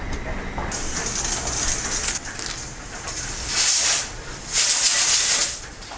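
A pressure cooker vents steam while cooking pongal, giving a steady loud hiss that swells into two stronger whistling bursts near the end, heard alone without talk.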